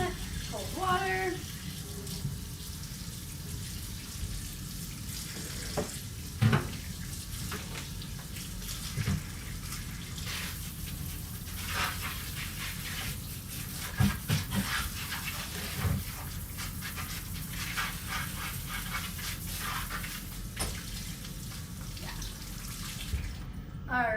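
Cold water runs from a kitchen tap into the sink in a steady, even rush that lasts throughout, with a few brief clinks and knocks rising above the flow.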